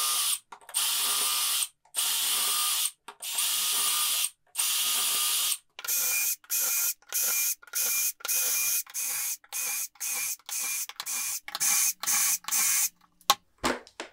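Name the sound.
drilling shelf pin holes in a cabinet using a jig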